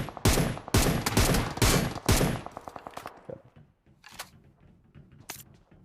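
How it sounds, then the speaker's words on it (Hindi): M762 rifle fire in a video game: a fast, loud run of close automatic shots for about three seconds, followed by scattered quieter single shots and faint distant reports. "जब मैं इसको नॉक करने के लिए गोलियां चला रहा होता हूँ"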